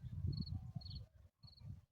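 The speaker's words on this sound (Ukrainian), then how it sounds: "Вчора, до речі, були цвіркуни, а сьогодні також." Short high-pitched cricket chirps repeat in a few brief bursts over a low rumbling background in a vegetable garden in May, fairly close and moderately faint, with a short silent gap.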